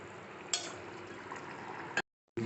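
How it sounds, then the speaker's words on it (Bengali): Boal fish kalia curry bubbles in a pan with a soft, continuous simmering hiss and small pops, close and quiet, before cutting out briefly near the end. "ভালো করে দু মিনিট হচ্ছে ফুটিয়ে নেবো"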